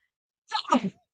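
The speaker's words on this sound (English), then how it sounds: "That was such a intense sneeze." One loud, sharp sneeze close up, a quick intake followed by an explosive burst, alone in silence.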